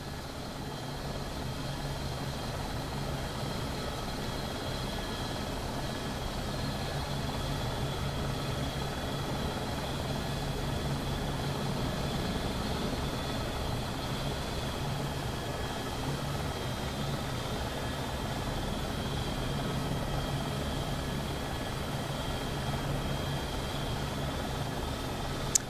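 Dreamfoil AS350 helicopter flying in the X-Plane flight simulator, a steady, moderately quiet turbine whine and rotor drone holding evenly for the whole stretch, with no talk.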